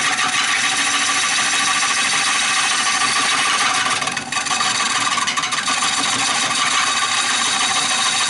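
A wood lathe spins spalted maple during hollowing, giving a loud, steady whirring and rubbing hiss throughout with a brief dip partway through.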